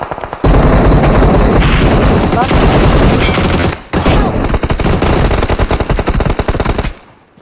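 Rapid automatic gunfire in PUBG Mobile on the Livik map, loud sustained bursts that break off briefly near the middle and resume with more shots before stopping abruptly.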